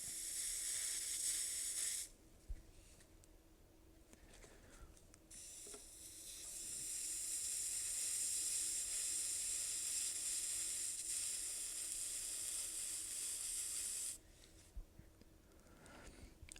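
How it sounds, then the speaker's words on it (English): A soldering iron steaming a damp paper towel laid over lifting wood veneer on an Altec Valencia 846B speaker cabinet gives a steady close hiss and sizzle that runs for several seconds, drops away, then returns for a longer stretch before fading. "with the soldering iron, see if I can steam this out."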